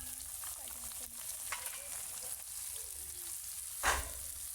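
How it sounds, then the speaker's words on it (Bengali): Spices with salt and turmeric frying in oil for a quail meat curry with lentil dumplings, a steady close sizzle under a few stirring scrapes and one louder clatter near the end. "লবণ হলুদ দিয়ে তেল ওঠা পর্যন্ত মশলা কষাবো"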